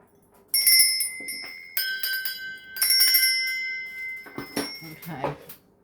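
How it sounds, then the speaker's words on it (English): Small bells rung softly in a spiritual space-cleansing ritual give bright, ringing chimes in three or four separate bursts, each shimmering and fading, with some faint background murmur and clatter near the end. "I'm going to be ringing some bells, not very loudly."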